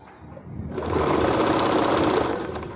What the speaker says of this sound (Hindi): चलो ये भी सिलाई लगा लेते हैं।